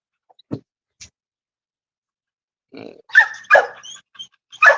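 A dog at a kennel gives a few short barks and vocal bursts near the mic, sparse at first, then a denser run of louder, pig-like grunting yelps toward the end.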